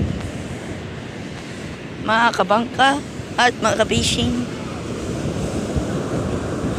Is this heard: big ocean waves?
yes